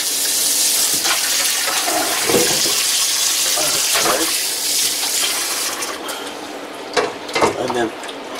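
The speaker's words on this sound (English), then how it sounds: "We're washing the belly now." Tap water running steadily over raw pork belly being washed, a continuous hiss of flowing water with splashes and handling noises, while a voice talks in the background.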